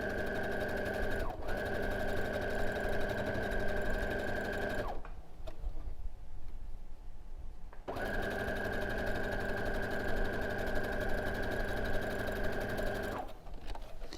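A sewing machine stitching the final quilt block of a row, running in long steady motorized bursts with a humming whir, pausing for a few seconds in between, close and clear with no talking.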